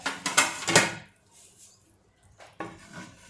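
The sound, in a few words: serving hot cooked bhagar from pot into bowl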